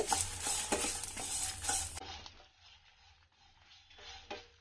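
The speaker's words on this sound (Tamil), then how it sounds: "பூண்டு சேர்த்துக்கோங்க. எல்லாமே ஒரு 2 நிமிஷம் வறுபட்டாலே போதும்" Garlic and spices being dry-roasted for rasam powder, a close, soft rustling scrape of a spatula through the pan with a faint sizzle, louder at first and then quieter.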